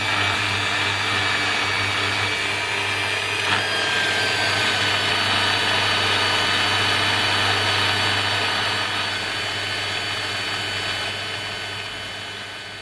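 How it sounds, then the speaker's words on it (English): A polishing machine set to slow speed buffs an Aston Martin Vanquish S with a polishing pad, giving a loud, steady whirring drone up close that fades slightly toward the end, with no talking. "Lock the speed on slow and use it as a buffing wheel."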